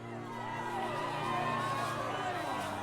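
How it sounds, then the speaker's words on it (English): A disgruntled, angry crowd takes to the street in The Life and Suffering of Sir Brante, a steady mass of shouting and cheering voices rising slightly and holding, dense and close throughout. "a disgruntled crowd takes the street"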